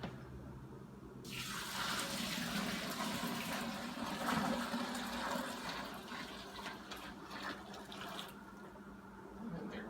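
Hot water is poured from a vessel into a mash tun for all-grain brown ale homebrewing. After a quiet second, a steady, rushing gush of liquid runs for about seven seconds, then thins and stops.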